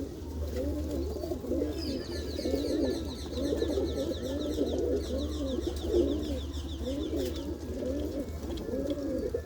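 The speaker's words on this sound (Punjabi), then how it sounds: "ਇਹ ਕਬੂਤਰ ਆ" Several pigeons coo in steady, overlapping bursts in a pigeon fancier's loft, with a low steady hum underneath and faint high chirps from other birds.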